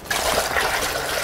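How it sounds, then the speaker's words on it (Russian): Water is poured into a cauldron of vegetables set on a wood-fired stove, a close, steady splashing gush that starts abruptly and runs continuously without speech. "Ставим казан с овощной красотой на печь и заливаем водой."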